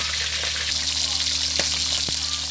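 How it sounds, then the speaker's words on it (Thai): Mackerel frying in a pan, a steady dense sizzle with a few faint pops, up close and continuous, with a low background hum. "ผมทอดปลาทู"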